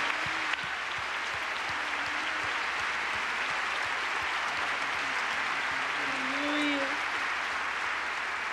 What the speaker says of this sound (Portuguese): Vamos aplaudir o Senhor, sim.